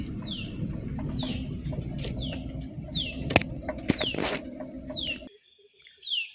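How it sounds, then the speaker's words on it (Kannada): Birds around a farmhouse give repeated descending chirps at a steady rhythm over a low background murmur, with a few sharp clicks and flutters before the ambience drops away near the end. "ಹಕ್ಕಿಗಳ ಕಲರವ."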